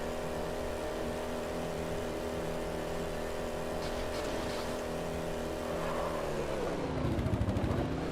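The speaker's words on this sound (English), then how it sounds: "not what a fucking hyper modern ODST car should sound like" Engine of a drivable ODST car built in Halo 3 Forge, a steady low truck-like drone that holds through most of the stretch, then revs up and swells louder near the end.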